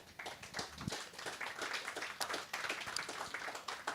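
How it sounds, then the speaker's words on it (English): An audience claps in a tent at the Royal Welsh Agricultural Show, greeting a panel with a soft, fairly distant patter of many hands that continues throughout. "Please give our panel a round of applause"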